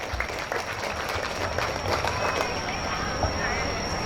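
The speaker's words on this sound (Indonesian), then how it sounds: "Boleh tepuk tangan" Applause from a children's Quran memorization exam audience at an Islamic learning center, a dense steady patter of clapping with voices mixed in throughout.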